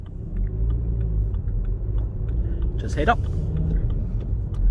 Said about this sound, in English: So going up through the gears into second, up into third, it's nice and smooth